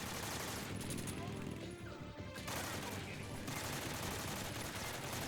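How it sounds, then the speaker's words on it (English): AK rifle fire in Metal Gear Solid 3: Snake Eater, loud sustained automatic bursts with a brief pause between them, dense and close, filling the whole stretch. "Next, let's try the AK."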